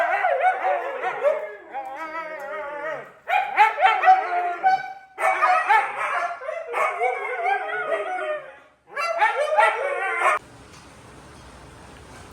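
Dogs bark, howl and yip in long, continuous bursts, loud and close, with brief gaps before the noise stops abruptly.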